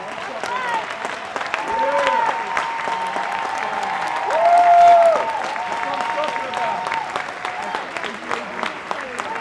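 Another round of applause at a Friday night movement-building gathering: dense crowd clapping throughout, rising briefly to a louder swell near the middle, with cheers and voices woven underneath.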